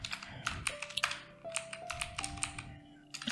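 Rapid, irregular clicking of keys on a computer keyboard while code is being written, close and fairly quiet, in short bursts with brief pauses.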